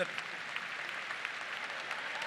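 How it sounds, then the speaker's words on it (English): Applause from a commencement audience at a Ball State University winter graduation, a fairly faint, steady wash of clapping with a few sharper claps standing out, continuing evenly for a couple of seconds. "Give Quentin Zoki a round of applause."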